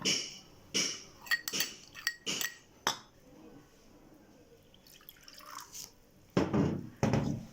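A spoon stirs salt into curd batter for bun dosa in a bowl, giving a series of sharp clinks and scraping taps against the dish, close and uneven, with a quiet pause in the middle and no talking.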